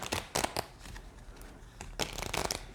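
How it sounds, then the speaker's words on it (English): A thick tarot deck being side shuffled by hand gives quick papery riffling bursts, two clusters near the start and a longer flurry later, close and fairly loud with no talking. "Let's see if I can do that side shuffle here."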